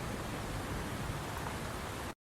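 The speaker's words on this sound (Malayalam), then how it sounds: "ഇപ്പോഴും നല്ല ശക്തമായ മഴ പെയ്യുന്നതുകൊണ്ട്" Heavy rain pours steadily on a Kerala forest road through Achankovil, a dense, loud broadband hiss with no voices, continuous until it cuts off abruptly near the end.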